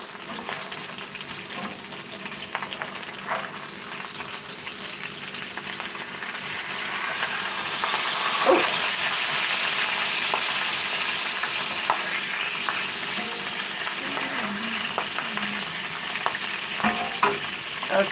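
Club and NY strip steaks frying in a pan on a home stove, a dense continuous sizzle and crackle with scattered pops, swelling louder midway and holding steady, no voices over it.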